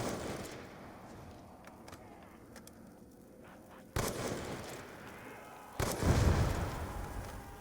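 Two sharp, booming shots from a DSR bolt-action sniper rifle in Call of Duty Zombies (TranZit), spaced a couple of seconds apart over a quiet game background.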